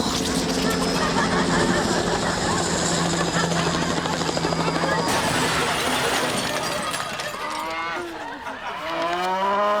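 A voice imitates a helicopter's chopping whir, then mimics a crash with descending groans and cow-like mooing sounds at the end.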